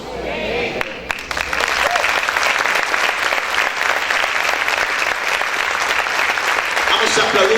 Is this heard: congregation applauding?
yes